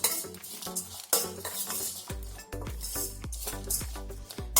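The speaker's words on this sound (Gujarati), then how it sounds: "બધી વસ્તુને સારી રીતે મિક્સ કરીશું" A spoon clinks and scrapes around a bowl as chopped coriander and other ingredients are mixed for a puffed rice snack. The strokes come in quick, uneven bursts with metallic rings, close and clear.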